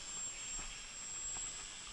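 A Dynam Texan T-6 radio-controlled model airplane flies overhead under an overcast sky, a steady distant engine whine holding for two seconds with no talk.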